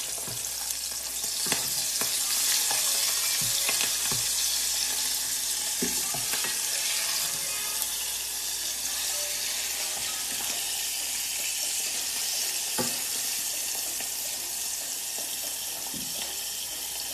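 Food fries in hot oil in a pan rather than a fryer, giving a dense, steady sizzle with occasional sharper pops and crackles, close and continuous with no talk.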